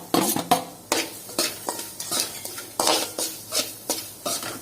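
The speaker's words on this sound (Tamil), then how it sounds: "தேங்காய் பூ போட்டு அப்படியே நெய்யிலேயே வறுக்கிறோம்." Grated coconut roasting in ghee in a pan is stirred with a metal spoon, giving repeated scraping strokes and clinks against the pan at a brisk, uneven rhythm under a faint sizzle, close by and without talk.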